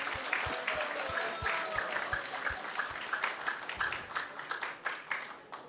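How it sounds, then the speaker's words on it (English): A crowd at an ISKCON temple gathering claps steadily for several seconds, a dense patter of many hands, with a few soft low thuds beating underneath. "So let's give them a big round of applause."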